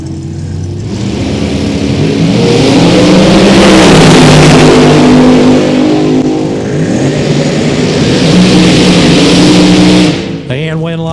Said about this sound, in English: In the black dragster over here,